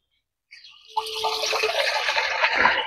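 Water gushes from a tap into a 15-litre drum after a short quiet start, a loud steady splashing pour that keeps building, with no voices.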